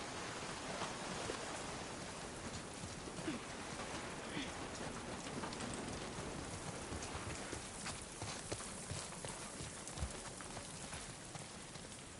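Steady rain falls throughout in a video game, a dense hiss of drops with scattered louder patters, constant and even in level.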